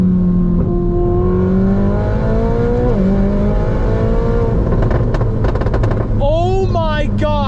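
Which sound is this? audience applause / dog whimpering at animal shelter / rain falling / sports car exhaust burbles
sports car exhaust burbles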